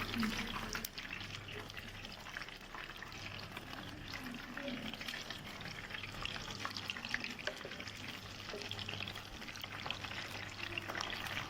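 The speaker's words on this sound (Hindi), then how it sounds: "अब इनको मैं फ्राई करती जाऊंगी और फ्राई करके सारों को निकालूंगी।" Chicken wings for honey wings fry in oil with a steady, fairly soft bubbling sizzle that runs throughout at close range.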